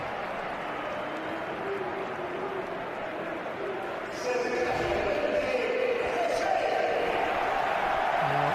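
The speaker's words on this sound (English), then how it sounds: "Just listen to the Bernabéu and the rich applause for José Rodríguez" Crowd at the Bernabéu applauding José Rodríguez during the Real Madrid vs Atlético Madrid Copa del Rey semi-final, a distant stadium roar that swells louder midway and holds, under a commentator's voice.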